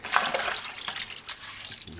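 Reused soapy water pours and splashes steadily for cleaning clogged gas stove burners, a continuous close wash of liquid with small bubbling surges.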